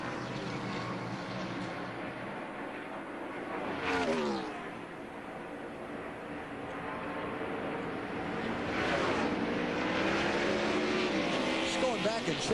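A NASCAR race car pulling off pit road during a 2001 race, with engine roars rising and sweeping past amid a busy, noisy track background.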